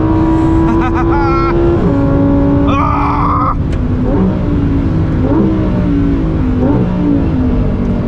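A 2023 Lamborghini Huracan Tecnica engine revving loud and close, climbing steadily toward 8,500 RPM, then snapping through a gear change and pulling up again with rising, wavering pitch.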